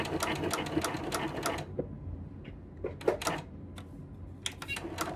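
A sewing machine runs fast to work oil through its mechanism, a close rapid mechanical clatter lasting over a second, followed by scattered clicks and small knocks as it stops.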